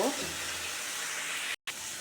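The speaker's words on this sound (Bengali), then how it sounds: "কাঁঠালের দানাগুলো দিয়ে দিলাম আমি ভালো করে ভেজে নেব" Jackfruit seeds frying in hot oil, giving a steady close hiss and sizzle throughout, broken only by one very brief dropout near the end.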